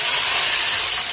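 A loud, close sizzling hiss of water poured into hot masala for chicken biryani fills the whole moment, bright and steady without a break.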